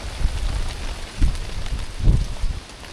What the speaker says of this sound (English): These are just the water on top of the leaf that keep dropping down from the wind.